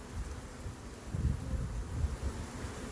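Gentle honey bees buzz around their hive, a steady low hum that swells and fades, with soft wind rumble and rustling mixed in throughout.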